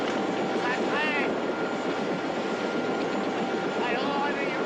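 Helicopter engine and rotor drone during a military scene at a mine, a loud, constant roar throughout with voices calling over it.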